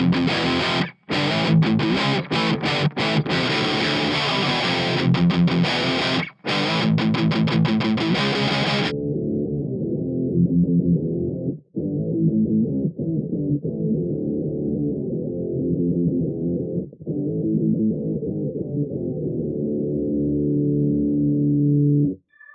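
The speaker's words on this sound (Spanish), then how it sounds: "Voy a tocar una guitarra con distorsión y en drop D para que puedas apreciar mejor lo que ocurre en los graves" An electric guitar with heavy distortion, tuned to drop D and miked with an AKG D5, plays loud sustained riffs with low chugging notes; the brighter high end drops away partway through, leaving a darker, bass-heavy tone.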